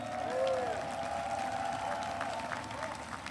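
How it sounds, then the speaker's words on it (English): Crowd applause for President Sandu of Moldova at a presidential address in Warsaw, a sustained wash of clapping from a large audience at moderate distance. "Give her a round of applause"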